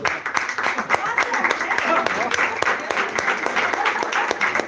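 A congregation bursts into applause at a religious gathering, sharp clapping bursts layered over a continuous wash of crowd noise and voices, fairly close and loud throughout.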